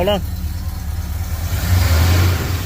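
A Ford truck engine revs in a garage while its steering is worked on, a low rumbling rise and fall under nearby talking.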